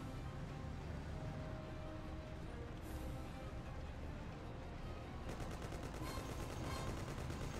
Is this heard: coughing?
no